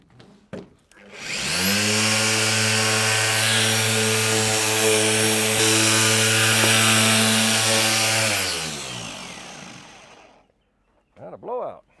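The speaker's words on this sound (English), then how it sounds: "I'm going to start down this side right here with the flexi sander" A flexible power sander sanding a catamaran boat hull whines steadily for several seconds, close and loud, then spins down and stops, followed by a brief rustle.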